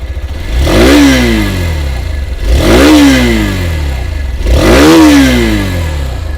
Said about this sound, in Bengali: এরপরে আপনি যদি এখানে এক্সস্ট সাউন্ডটা দেখেন, আগের মতনই এখানে বলতে পারেন যে এক্সস্ট বা মাফলার এটাও দেওয়া হয়েছে।